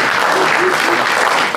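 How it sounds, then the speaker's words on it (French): Loud, dense applause from the audience at a Toulouse municipal election candidates' debate, a thick steady clapping roar that fills the whole short stretch. "que je vous demande d'applaudir parce qu'ils sont vraiment sympas"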